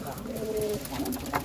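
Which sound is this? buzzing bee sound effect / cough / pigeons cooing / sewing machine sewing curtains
pigeons cooing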